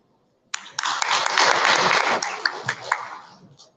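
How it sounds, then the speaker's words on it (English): An audience at a banking and finance leadership summit breaks into steady applause after a session, a dense wash of many hands clapping that swells, holds for several seconds and then thins out toward the end. "A huge round of applause."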